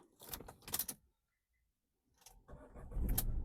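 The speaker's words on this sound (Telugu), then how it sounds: "సింగిల్ సెల్ఫ్లో బండి స్టార్ట్ అవుతుంది అలా స్టార్టింగ్ ట్రబుల్ లేదు" A 2016 Ford EcoSport diesel is started. Short jangling keys and clicks come first, then a pause, and then the starter cranks and the engine catches and settles into a low idle. No voices.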